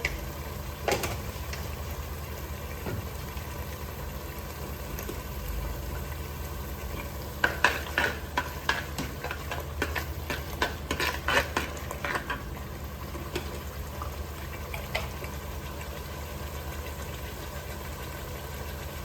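Tomato and onion paste with turmeric and masala being stirred in a pan, a soft sizzle under a low steady hum, with a cluster of scraping spoon strokes partway through.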